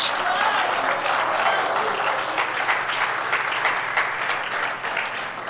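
A Spanish-speaking church congregation gives a loud, sustained round of applause to God, a dense wash of many clapping hands held at an even level throughout, close and full.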